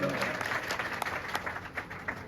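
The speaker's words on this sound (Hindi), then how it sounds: "ताली तो बजा दो यार, तालियों में तो" Applause at a Kabir Jayanti celebration held by a Kabir education society in Churu: a moderately quiet crowd claps with distinct individual hand claps poking out of the rolling patter, with no speech on top.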